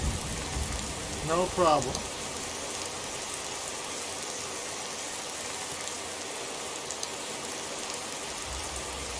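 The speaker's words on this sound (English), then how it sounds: "It's a nice, rainy," Steady rain from Skyrim, falling across an overcast graveyard in Falkreath, hisses evenly throughout. A short spoken line sits near the start, and a brief tonal flourish rises over the rainfall.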